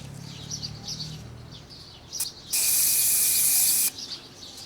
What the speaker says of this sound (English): we have put the dirt retention spray to our air filter and this sponge